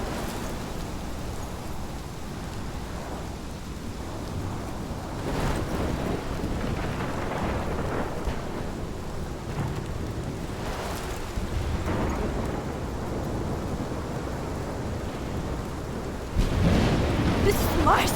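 A thunderstorm in the video game Life Is Strange, with steady heavy rain and rumbling wind throughout, rolling thunder swelling midway and a louder crack of thunder near the end.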